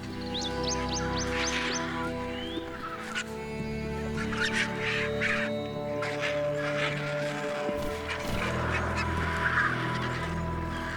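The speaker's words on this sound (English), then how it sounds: "A marabou stork joins the feeding frenzy," Marabou stork calling while scavenging a giraffe carcass on the African savanna, honking goose-like calls among other bird cries over a steady hum of wildlife activity.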